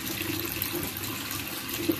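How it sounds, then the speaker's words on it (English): Tap water runs steadily from a faucet during hand washing, a continuous close splashing hiss with no talk over it. "wash your hands especially for 20 seconds"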